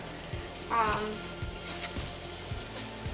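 Seitan sizzles in a hot pan with a steady crackling hiss, close by, while occasional utensil clinks and faint scraping sounds come and go.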